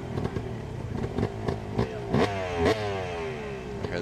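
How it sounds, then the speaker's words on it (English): A two-stroke motorcycle at a Harley-Davidson hill climb event revs in sharp repeated bursts, its engine note rising and falling several times, loud and close, with no speech. "Hear the bike revving up."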